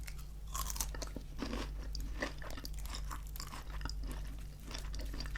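Close, crisp crunching and chewing of KFC hot and spicy crispy chicken wings, with a rapid, uneven run of bites and mastication over a low steady hum, with no talking.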